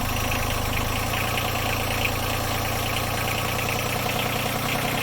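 A Yanmar 3YM30 marine diesel runs steadily at a fast idle after being revved, a loud, continuous, close-up knocking rumble with an even rhythmic chug and no talk.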